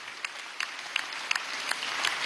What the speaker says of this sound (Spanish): Muy bien, nuevo aplauso.